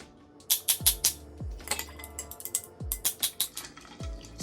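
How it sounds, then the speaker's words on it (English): Ice clinks against a mixing glass as a passion fruit rum old fashioned with gum syrup and tiki and Angostura bitters is stirred, giving a steady run of close, bright taps and knocks. "Stirred until chilled and diluted."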